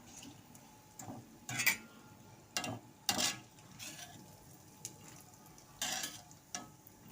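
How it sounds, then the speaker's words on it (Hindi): Makhana (fox nuts) frying in ghee for churma laddu, with soft sizzling and scattered stirring clicks and scrapes in a pan, fairly quiet and close, with no voices. "ये मखाने हम घी में फ्राई कर लेंगे"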